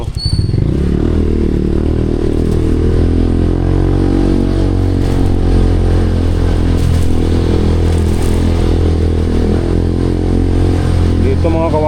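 Motorcycle engine running steadily while being ridden on roads toward Novaliches in the Philippines: a loud, continuous close-up drone with constant pitch and rattle, and no talking.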